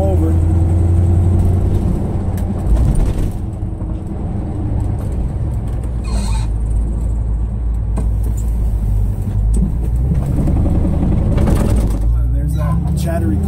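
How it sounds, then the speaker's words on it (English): A 1978 Chevrolet K5 Blazer on a cold-start test drive, its engine droning loud and close throughout with a rough, juddering tone as the chattery clutch takes up, while someone talks over it in traffic. "there's that chattery clutch."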